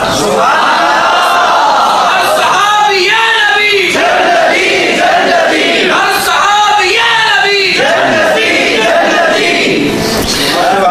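A large crowd chants a religious slogan in loud, rhythmic unison, each call rising in repeated bursts of massed voices that fill the space.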